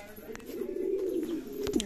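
Fancy flying pigeons in a loft coo with a sustained low throaty warble, close and clear, joined by a few brief chirps and clicks near the end.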